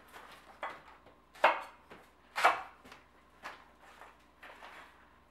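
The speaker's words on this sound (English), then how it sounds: "And just cut it into 2-inch sections, and then have those lengthwise." A knife slicing a trimmed leek into sections on a board, about seven distinct crisp chops at an uneven pace, close and fairly quiet, with no talking.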